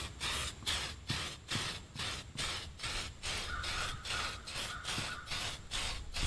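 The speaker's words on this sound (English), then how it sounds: "go back and do some light sprays to make sure I" A spray can paints the body shell of a Traxxas Stampede RC monster truck, making a series of short, even hissing bursts in a steady rhythm, close by, with no talking.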